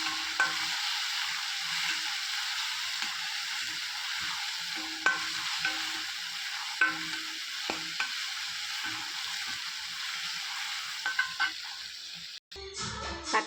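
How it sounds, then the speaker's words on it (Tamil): A pan sizzles steadily while a spoon stirs and scrapes now and then, tomato curry sautéing close by, ending with a sharp clatter. "நல்லா வதக்கிட்டு அதில் தக்காளி குழம்பு கொட்டுறேன்"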